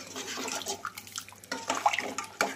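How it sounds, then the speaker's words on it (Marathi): Water splashes and pours in short bursts into a pan, with a few light clinks of a vessel, close and fairly quiet. "यावर आपल्याला थोडं अजून पाणी घालायचं आहे"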